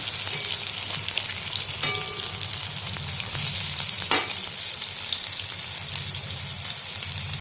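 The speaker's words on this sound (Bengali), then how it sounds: "এখন ফুলকপির বড়াগুলো ভেজে নিচ্ছি" Cauliflower fritters fry in hot oil in an iron wok, giving a continuous close crackling sizzle with occasional stirring clinks.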